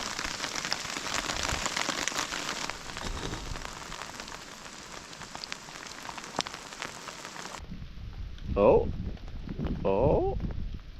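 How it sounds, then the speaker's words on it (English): Hail pelting down in freezing wind outdoors, a dense steady clatter of stones that fills the first seven seconds, then drops away abruptly to quieter ground noise with a person speaking close by. "Look how big some of these hailstones are."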